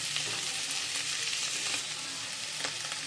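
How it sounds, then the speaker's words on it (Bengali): Small potatoes fry in a pan with a steady, dense sizzle that stays loud and even throughout, crackling continuously with no voices. "বন্ধুরা, আলুটাকে আমি ফ্রাই করে নামিয়ে রেখেছি।"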